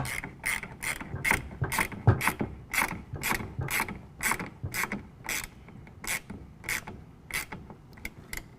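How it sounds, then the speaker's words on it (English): A truck bed rail clamp for a RetraxPRO XR retractable tonneau cover is tightened with a 14mm wrench, producing a steady run of rhythmic ratcheting clicks with creaks, close and clear, with no talking. "we're going to use a 14mm to tighten that down"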